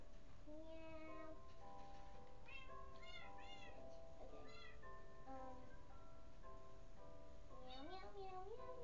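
Cat meowing in a video game: a series of tonal meows, some rising and bending, repeating several times at quiet overall level with a faint background hiss.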